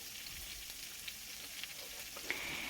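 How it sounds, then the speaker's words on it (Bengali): Eggplant, potato and radish frying with salt and turmeric in a pan, a soft steady hissing sizzle with a few faint ticks and pops, quiet and unbroken by speech. "এখন সেই সবজিগুলো দিয়ে ভালো করে নুন আর হলুদ দিয়ে ভালো করে ভেজে নেবো"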